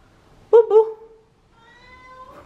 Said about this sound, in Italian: Qui c'è Gatto Denver